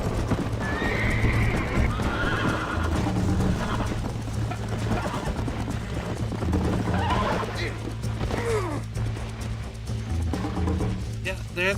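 Horse hooves clip-clop steadily while the horse whinnies and neighs in the Red Dead Redemption video game, a busy, continuous ride with someone talking over it.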